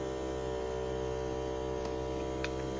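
A home egg incubator runs with a steady electrical hum and faint fan drone, constant and quiet throughout, with a couple of tiny clicks near the end.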